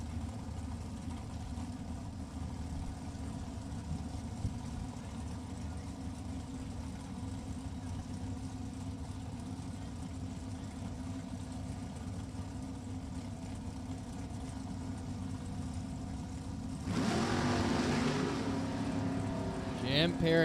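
Drag racing cars, a Chevrolet S10 and an Oldsmobile Cutlass, at a drag strip, a continuous low engine drone that swells louder near the end while a commentator talks over it.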